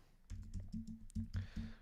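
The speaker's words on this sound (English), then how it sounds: "I'm just typing this in." Someone types on a computer keyboard: about eight quick, quiet, close keystrokes in an uneven rhythm, with no talking.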